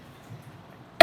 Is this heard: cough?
yes